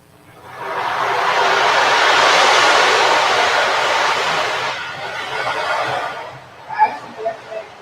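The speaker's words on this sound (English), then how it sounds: "There's a wave drum, and you can also use a better wave drum because of the material." A wave drum is tilted, sending a rush of beads that swells into a sustained surf-like hiss, fades over several seconds and ends in a few small rattles.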